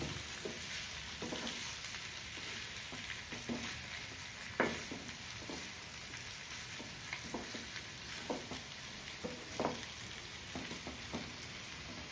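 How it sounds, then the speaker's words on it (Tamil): Spicy potato masala being stirred in a frying pan: a soft, continuous sizzle with irregular scraping and tapping strokes of the spoon against the pan, fairly quiet and close, with no talking. "டேஸ்ட்டு பூரா உருளைக்கிழங்குல ஒட்டுற மாதிரி கிளறணும்"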